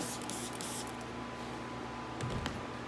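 Steady hissing of spray wax sprayed onto a car, running throughout, close and continuous, with a couple of faint clicks near the end.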